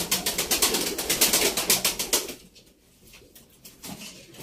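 White pigeons in a loft give a rapid pulsing run of throaty sounds that fades after about two seconds into quieter soft cooing and rustling nearby.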